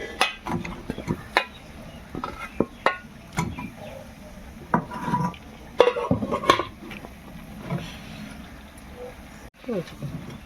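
Cut potatoes going into a pot of mutton curry and being stirred, with scattered clinks and scrapes of a utensil against the pot, close and irregular, with faint background sounds.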